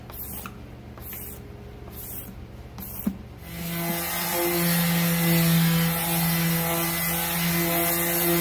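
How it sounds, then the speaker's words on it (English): A power sander strips the bad coat of paint from a Suzuki PE250 enduro motorbike frame, starting with a few short pulsing bursts, then settling into a loud, continuous whirring drone. "Hey, that's just the initial sand."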